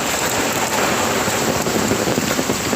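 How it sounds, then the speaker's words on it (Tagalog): Heavy rain from Typhoon Paeng lashes down over flooding ground, a loud, dense, continuous roar of water on surfaces that holds steady with no break. "Binabaha na po kami. Sa sobrang lakas ng ulan."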